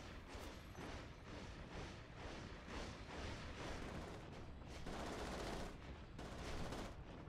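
Heavy machine gun fire in the video game Natural Selection 2, loud continuous bursts of rapid shots rolling on with little pause, dense and harsh throughout.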